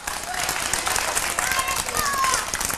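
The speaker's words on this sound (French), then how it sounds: "Je pense qu'on peut les applaudir." A studio audience at a children's television game show final claps and applauds steadily, with a few raised voices mixed into the noisy ovation.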